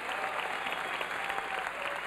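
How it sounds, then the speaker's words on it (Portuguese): An audience at a Brazilian music concert gives a standing ovation, a steady, dense wash of applause at an even level throughout, with crowd murmur mixed in. "O público aplaude de pé."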